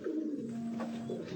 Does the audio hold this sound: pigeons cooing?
yes